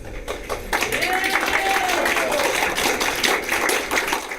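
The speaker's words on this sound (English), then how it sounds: "A packed room erupting in applause as Clifton residents hear the news" Packed meeting room of Clifton residents erupting into sustained applause, dense clapping throughout with a voice partly audible underneath.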